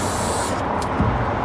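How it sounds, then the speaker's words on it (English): An aerosol can sprays a coat onto screen printing film in one loud steady hiss that cuts off after about half a second, followed by quieter room noise. "As you're spraying the film, let it dry for a few seconds and then reapply."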